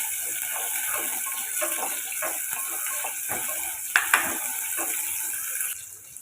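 Onions and green chillies sauté in oil for a village-style mutton trotter curry, giving a soft, steady sizzle with intermittent stirring scrapes and a couple of sharp clinks near the middle.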